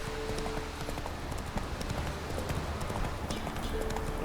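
Roach the horse galloping in The Witcher video game, with a fast, steady run of hoofbeats at close range over a busy background of game sound.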